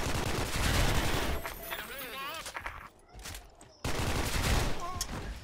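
Bursts of rapid gunfire from an online shooter video game, dense automatic fire that breaks off briefly and then resumes, with a voice heard over the game sounds.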